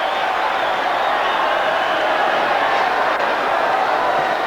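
A large stadium crowd at a 1990 Recopa Sudamericana football match between Boca Juniors and Atletico Nacional roars steadily after a back heel, a broad distant wash of cheering that holds evenly throughout.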